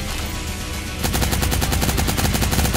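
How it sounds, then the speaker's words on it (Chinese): Gunfire in a mobile battle royale shooter game: after a second of background noise, a rapid sustained burst of automatic shots rattles loudly and evenly to the end, with no voices. "有枪声，有枪声"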